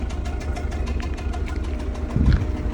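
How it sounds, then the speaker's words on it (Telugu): A Ford car engine idles steadily with a light, rapid ticking of injector noise over its low rumble, close by. "ఇది ఇంజెక్టర్ కూడా లైట్గా నాయిస్ సౌండ్గా వస్తూ ఉంది"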